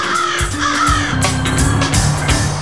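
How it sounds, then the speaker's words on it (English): Urban crows in Auburn caw loudly and repeatedly, several birds calling over one another in a steady, harsh chorus. "Auburn's crows head to the countryside to nest and raise their young."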